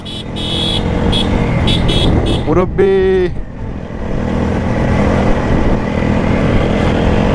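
A new 4V sports motorcycle runs nearby with a steady engine drone, briefly broken by a rising tonal sweep, while someone speaks over it.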